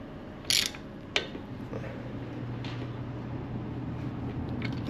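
A wrench clicks sharply a couple of times while tightening Jeep Wrangler JL axle bolts, close and fairly quiet, followed by low workshop background.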